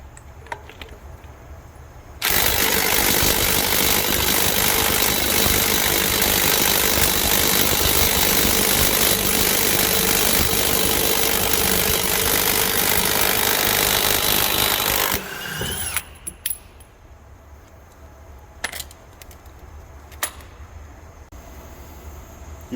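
A Ryobi cordless impact wrench running on a 6Ah battery drives off a wheel nut in one long, loud, steady burst of hammering that stops abruptly, followed by a few faint clicks and knocks nearby.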